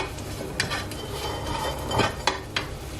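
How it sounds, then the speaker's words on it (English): Mushrooms and bacon cooking in a pan with a low sizzle underneath, punctuated by a few sharp clinks of utensils against cookware. "Whilst the mushrooms and bacon are frying"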